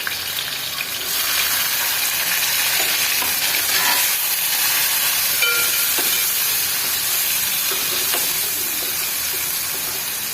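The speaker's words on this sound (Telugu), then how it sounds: "ఆయిల్ వేడయ్యాక పచ్చిమిర్చి ఉల్లిగడ్డ వేసుకోవాలి" Green chillies and onion hit hot oil with a sudden loud sizzle about a second in, then a steady crackling, steamy hiss continues near and strong, with occasional stirring and no speech.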